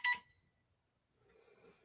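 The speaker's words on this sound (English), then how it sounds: "that's my phone. Let me turn that off." A phone sounds a brief, loud electronic text-message notification beep at the start, then a quieter stretch of room murmur follows.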